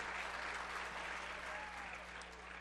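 A crowd applauds after a 65cc motocross race, a dense steady wash of clapping and cheering heard from a short distance that eases slightly toward the end.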